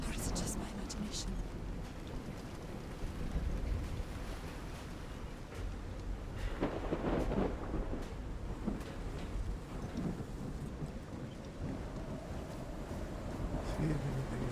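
A thunderstorm over reefs in the video game Call of the Sea: steady heavy rain and wind with rolling thunder rumbles swelling midway, and a voice speaks over it.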